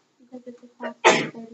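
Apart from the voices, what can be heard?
sneeze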